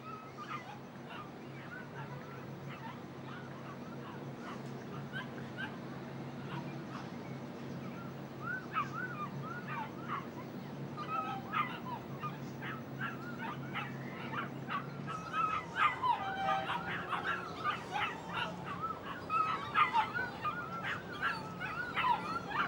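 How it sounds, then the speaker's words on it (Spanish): Puppies whimper and cry in high, wavering yelps over a steady background hum, growing louder and more frantic toward the end, with faint voices at times. "¿Qué les pasará a los perritos? No sé. Están llorando desde anoche."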